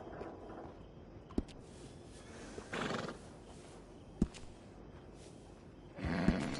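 A horse in the video game Red Dead Redemption 2 whinnies and snorts at a stable, with a few sharp clip-clop knocks and short bursts of breath spread across a steady low background murmur.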